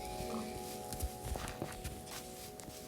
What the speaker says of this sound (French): que d'un coup nos bruits de pas, ça fait peur en fait